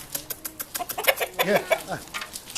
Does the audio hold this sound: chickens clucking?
yes